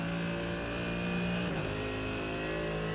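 A Porsche race car engine drones loud and steady in a racing video game at Suzuka, with a constant high whine and layered harmonics that shift slightly midway as another car sits close behind.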